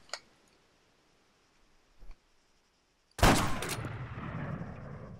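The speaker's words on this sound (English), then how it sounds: "So we got the first shot that'll actually penetrate this thick wall, and it penetrated through the corner." One loud, sharp gunshot in the video game ArmA 3 fires through a thick wall, followed by a lingering reverberant tail after a faint click or two beforehand.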